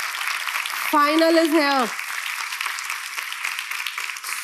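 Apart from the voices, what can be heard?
audience applause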